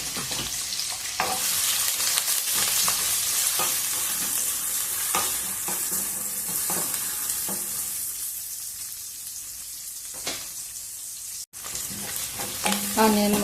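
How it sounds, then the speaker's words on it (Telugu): Green chillies, curry leaves and onion pieces frying in hot oil, a steady loud sizzle throughout with frequent scraping stirs of a spoon against the pan, close up and with no talk, while a gongura chicken curry is being made. "పచ్చిమిర్చి, కరివేపాకు, ఉల్లిగడ్డ ముక్కలు అన్నీ కొద్దిసేపు వేగనిద్దాము."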